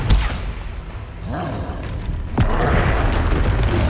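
A Confringo fire spell from the Hogwarts Legacy video game goes off as a loud booming blast with a sharp crack near the middle, then a sustained roaring burst that stays loud to the end.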